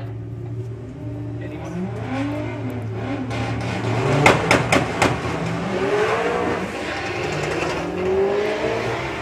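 At a drag racing event, cars launch down the strip: a steady engine drone swells into revving and rising engine pitch, with several sharp cracks midway and the engine sound continuing afterward.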